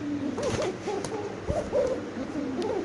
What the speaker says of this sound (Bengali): নরের ডাকটা একটু দেখেন